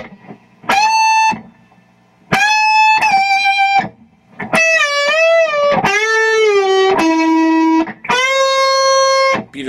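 An electric guitar solo, played as separate loud, distorted notes and bends, including a pre-bend. The phrases are split by short silences and there is no talking.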